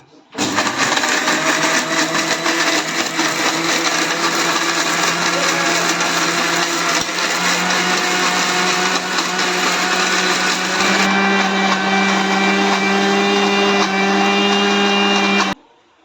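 Electric mixer grinder grinding fish curry masala paste with a little water, a loud steady whirring motor drone running continuously with slight pitch shifts, then abruptly stopping.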